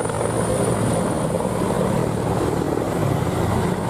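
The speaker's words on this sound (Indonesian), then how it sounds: "Di sini ada helikopter TNI" Steady, close whirring of a toy military helicopter's spinning rotor, a continuous buzzing drone with no voices.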